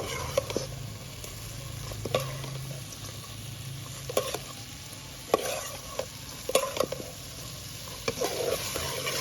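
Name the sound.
shrimp heads and ginger frying in oil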